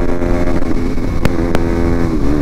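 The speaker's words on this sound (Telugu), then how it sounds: "వార్మ్ చేయాలి ఫస్ట్ ఇంజన్ని." A motorcycle engine idles while warming up before a weekend ride, a steady close rumble with a light sputtering pulse and a couple of brief sharp ticks, no talking over it.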